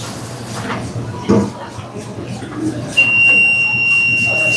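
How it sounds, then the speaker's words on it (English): A commercial kitchen oven alarm starts up partway through as a steady, piercing high tone, preceded by kitchen clatter and a person talking nearby. "Is one of our oven going off over there."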